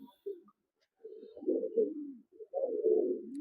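Teddy pigeons cooing at close range, with a short low call followed by two longer rolling coos and a brief pause between them, in a quiet setting with no talk.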